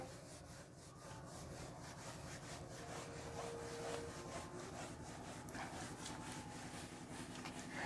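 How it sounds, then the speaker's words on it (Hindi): A whiteboard being rubbed clean in a classroom gives a steady, continuous scraping swish of repeated strokes, close and fairly loud, with no voices. "तो क्वेश्चन को रब करें ना हम, ये पूरा हम रब करते हैं।"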